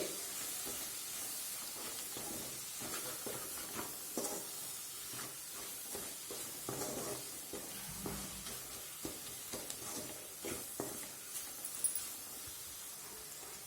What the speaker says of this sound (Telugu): తక్కువ మంటలో పెట్టుకొని వేపుకోండి ఎందుకంటే మాడిపోకుండా ఉంటుంది